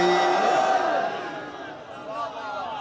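A crowd at a religious majlis gathering in Larkana answers with a loud chanted slogan, the massed voices swelling at the start and fading into a shorter, softer chant.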